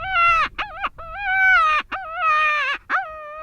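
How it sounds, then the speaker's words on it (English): A loud, raspy jackrabbit-distress predator call for coyote hunting in wide open country, blown in a series of five or six wailing, honk-like cries with short breaks between them, close and alone. "kind of a raspy sound to it for like a jackrabbit call, per se, when you're calling wide open country"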